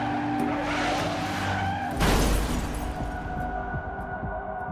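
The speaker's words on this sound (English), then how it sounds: "it is forced to brake hard" A Mercedes car brakes hard outside a tunnel, tires skidding with a sudden loud screech over a steady engine roar, then the noise settles into a rougher rumble.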